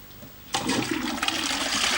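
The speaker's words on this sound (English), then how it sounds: "The water goes down the pipe, into the loo, and flushes it out." A toilet flushes close by, a sudden loud rush of water after a brief quiet, then a steady gurgling torrent draining with no talk.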